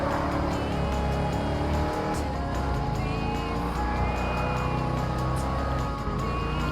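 Firebird Trans Am from Smokey and the Bandit racing in Gran Turismo Sport, a steady loud engine drone with shifting pitch and faint tire squeal running continuously through the race, no talk.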